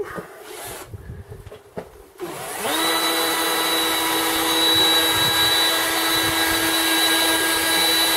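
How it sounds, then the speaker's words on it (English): A machine sander with an AutoGlym foam pad works a Golf headlight, spinning up after some brief handling noise into a steady, loud, continuous whine that holds to the end. "And then we'll carry on sanding away."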